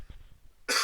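A single loud, close cough bursts out abruptly after a brief quiet stretch of low murmur.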